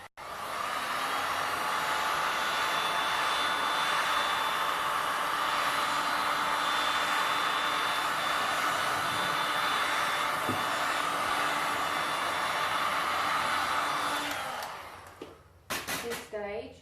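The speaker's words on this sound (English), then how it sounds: "Okay, now that I've done that, I will go around and heat it up again." A heat gun blows over semi-set resin in a constant loud, breathy whoosh for about fourteen seconds, then cuts off, followed by a few brief handling clatters.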